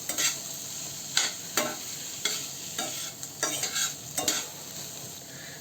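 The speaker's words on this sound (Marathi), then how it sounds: "बटाटा परतून घेऊ।" Potatoes and cluster beans are sautéed in a pan, with about eight distinct scraping stirs of a spatula spaced through a continuous soft sizzle, close and fairly loud.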